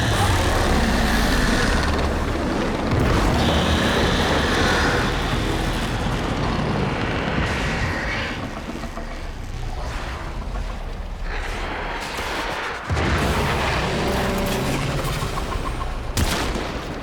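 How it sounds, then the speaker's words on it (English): An explosion in the video game Warframe, heard as a loud, dense roar with rumbling debris and crackling bursts that tapers into a lingering wash, followed by a sharp later impact. "There should be useful detritus falling from the explosion."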